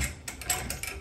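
Cruisemaster jockey wheel being wound up, a short burst of crisp ratcheting clicks, close and quiet, alone.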